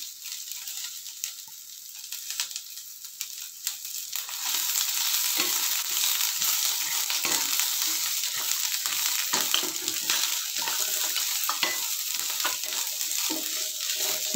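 Ginger, garlic and red chili frying with onion for restaurant-style shahi paneer: a steady, dense sizzle that swells after a few seconds and holds loud and close, with faint stirring scrapes.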